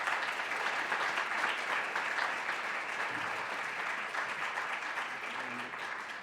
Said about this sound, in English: So I'd like to ask you all to give a round of applause.